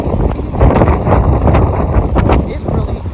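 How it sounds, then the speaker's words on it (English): Strong gusty wind roars across the microphone, loud and continuous, with a voice faintly audible beneath the rumble. "it's really windy out here."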